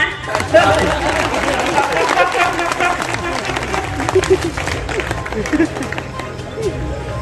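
An audience at a Hindi comic poetry gathering at a Dussehra fair breaks into lively clapping amid chatter and crowd murmur, with voices heard over the applause.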